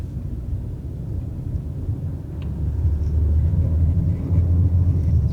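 A car drives along at night, its steady low engine and road rumble swelling slightly as it goes, with no talking over it.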